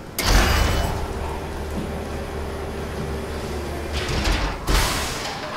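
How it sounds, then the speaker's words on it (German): A door in the sci-fi horror game SOMA slides open with a sharp mechanical burst, then a low rumbling hum runs on before a second burst as it closes. Loud and near, with no talking. "wenn ich so eine Tür auf und zu mache"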